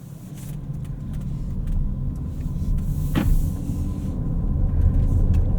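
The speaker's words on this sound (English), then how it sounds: "Let's start off in e-power mode and just drive this around like an EV." A 2024 Porsche Cayenne E-Hybrid driving in electric-only mode, heard as a steady low rumble of road and tire noise inside the cabin with a faint motor whine and a brief mid-clip squeak, no engine sound and no talking.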